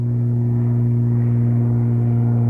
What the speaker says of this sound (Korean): 일단 이건 경비행기의 소음입니다.